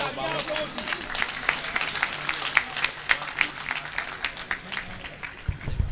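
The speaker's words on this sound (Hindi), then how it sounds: "जोरदार तालियां बजाइए।" An audience at a Banaras mushaira claps steadily with sharp, scattered hand claps, while a voice talks over the applause.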